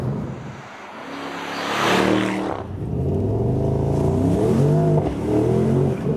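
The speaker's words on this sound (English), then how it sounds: "That was 0 to 40 miles an hour with a lot of fireworks from the exhaust." A 2022 Mercedes-AMG SL 63 revs hard and accelerates from 0 to 40 mph close by, the engine note climbing through the gears, with a rough burst of exhaust crackle early on.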